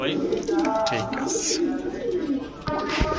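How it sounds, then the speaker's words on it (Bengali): Pigeons coo in soft, rolling calls close by, overlapping continuously, while a person talks over them. "কবুতরে কিন্তু খুবই অ্যাক্টিভ ছাড়ার সাথে সাথে ডাকাডাকি করতেছে"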